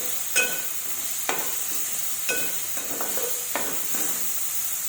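Steady sizzling hiss of spices frying in hot oil, with a utensil scraping the pan in regular strokes about once a second; no voices.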